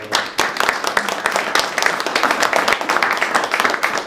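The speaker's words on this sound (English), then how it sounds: "We should give her a huge round of applause for that." Audience applause at a real estate networking night, a few seconds of scattered, uneven hand clapping from a modest crowd, fairly close and lively.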